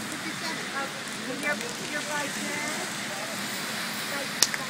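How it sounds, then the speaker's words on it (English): Steady rain hisses down on a New York street in the evening, a dense even wash of patter with people talking quietly nearby. "It's raining."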